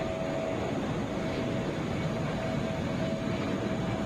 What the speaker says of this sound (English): Delta 406 headed to Bozeman, Boeing 757